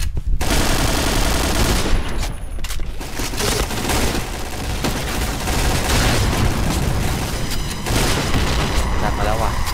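Rapid, sustained gunfire from shooting at a locked-on target in a shooter video game: dense, loud overlapping bursts that run almost without a break across the whole stretch.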